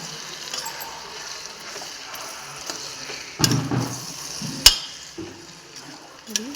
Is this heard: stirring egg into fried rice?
yes